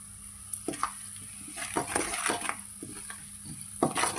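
Chili powder fries in oil in a fish curry pan with a soft, steady sizzle, broken by repeated scrapes and clinks of a spoon stirring against the pan, close and fairly quiet.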